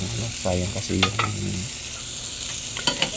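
Chicken adobo cooking in hot oil in a pan, with a steady sizzle and a few stirring scrapes and clinks, close and fairly loud with no talking.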